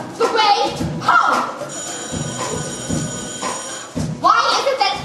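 A telephone bell rings in a loud, sustained trill during a stage musical scene, with thumps and raised voices breaking in at the start and end.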